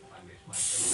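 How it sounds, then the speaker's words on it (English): A short burst of cooking spray hisses up sharply into a pan and holds for half a second, close by. "We're gonna use some cooking spray in this pan just to"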